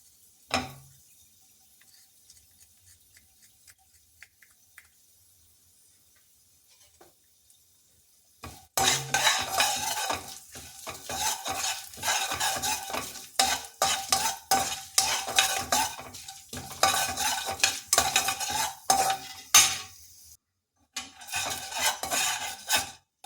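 Chana dal frying in a pan is stirred with a utensil, producing a quiet pause and then steady close scraping and clinking over a soft sizzle, with a brief break near the end.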